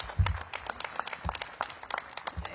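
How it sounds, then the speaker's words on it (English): Audience applause at a morning police event at Dunbar Senior High School, a moderately loud spread of claps with uneven peaks, steady for a couple of seconds. "Give Officer Brock a big round of applause."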